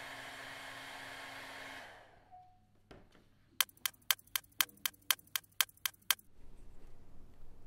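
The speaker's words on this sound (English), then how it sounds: "so I'm going to use my blow dryer." A blow dryer runs with a steady, fairly loud whoosh for about two seconds, then cuts off, followed by a quick run of sharp, evenly spaced clicking ticks.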